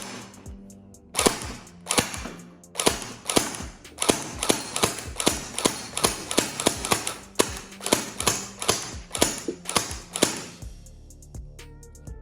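A Cyma MP5 gel blaster fires a long string of sharp, loud cracking shots in an irregular rhythm, close by and without any talk.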